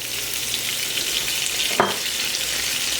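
Lemon juice hits browned butter in a hot pan, giving a loud, steady, hissing sizzle throughout, with a brief soft clink near the end.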